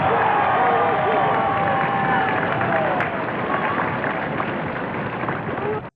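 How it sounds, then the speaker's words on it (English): Recorded crowd applause and cheering after John F. Kennedy's inaugural address, a loud, continuous roar of clapping mixed with crowd babble and shouts, slightly muffled and archival in tone, ending abruptly. "he got a lot of applause"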